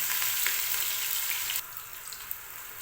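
Onions frying in oil in a pan while a mixed vegetable sabji is prepared, a steady close hiss of sizzling that drops in level partway through, with faint stirring clicks and no talking.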